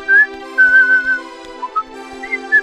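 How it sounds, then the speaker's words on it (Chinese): A cartoon robot leaning against a tree whistles a light, wavering tune in short melodic phrases while oiling himself. The whistling is close, clear and alone, with brief pauses between notes. "他靠着树，正在帮自己一边上油，一边吹着口哨。"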